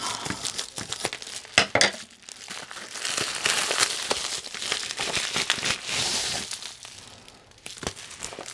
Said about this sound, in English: I'll just cut it.